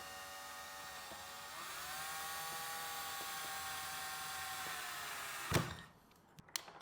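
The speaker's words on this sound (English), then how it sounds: "we're going to start drilling the center of that, just to create a pilot hole" A power drill whines steadily for several seconds boring a pilot hole in the center of a sink, its pitch shifting slightly as it bores, then stops with a brief clatter.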